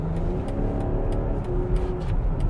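A 2021 BMW X5 cruising at high speed on a toll road, with steady, loud engine and road noise from inside the cabin and no talk.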